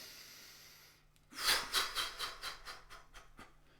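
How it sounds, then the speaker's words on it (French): A person in a singing warm-up takes a breath in and then blows out in a series of pulsed puffs, close to the microphone and with no talking. "On va prendre notre respiration comme ceci et souffler."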